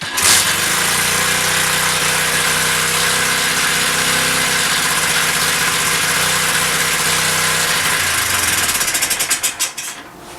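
A Honda Z50 clone minibike's small engine runs steadily at a loud, even idle, then sputters and stalls out near the end, its rhythm breaking into a few uneven chugs before stopping.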